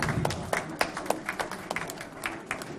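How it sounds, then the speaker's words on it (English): An audience gives a round of applause to welcome a panel onto the stage at a fashion event, steady clapping throughout with sharper individual claps standing out. "So please welcome our panel with a huge round of applause."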